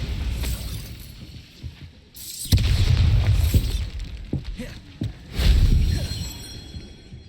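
Bombarda spell explosions in Hogwarts Legacy, set among other spellcasting: two loud, close blasts with a rumbling low boom and crackling debris, separated by quieter gameplay noise and small impacts.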